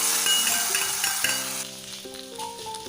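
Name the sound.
hot tempering poured into mango curry, sizzling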